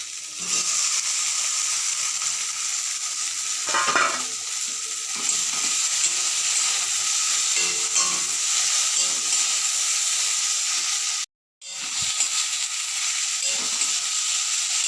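Fried okra being stirred into mustard paste in a pan for a Bengali okra curry, a steady close sizzle with scraping stir strokes, one brief break near the end.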